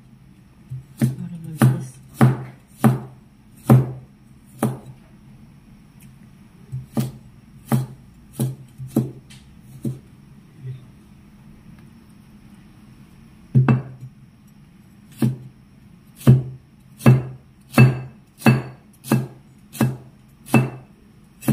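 A kitchen knife chops potatoes on a cutting board for a ground beef dish, giving sharp, close knocks in quick bursts separated by pauses, with a brief spoken remark and a low background hum.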